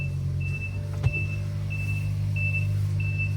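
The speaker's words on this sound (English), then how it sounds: "Oh my god, that beeping." A Subaru Sambar kei truck's steady high-pitched warning beep repeats at an even pace over a low engine hum, with a single knock partway through.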